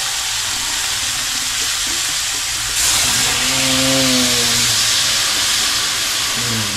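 Tilapia fries in a pan, then water goes in and sets off a sudden loud burst of hissing steam that settles into a continuous sizzle, with a faint tonal whine alongside.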